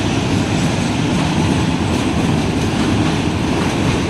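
Train rolling across the Shitalakshya railway bridge in Bangladesh during rain, a steady, loud, broad rumble and wash of wheel and rain noise that holds even throughout.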